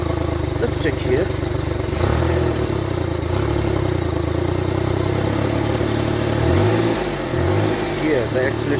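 An old manual car's engine idles low and rough, close by, as though about to stall, with a steady droning hum that dips and surges slightly throughout.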